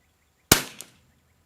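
A single sharp rifle shot from a CZ452 Varmint or Savage MKII TR rimfire rifle, fired on an outdoor range, with a crisp crack and a brief trailing echo, followed by silence.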